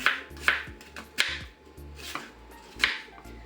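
Sharp knife strikes on a cutting board, about five spaced chops over steady low background hum, no talking.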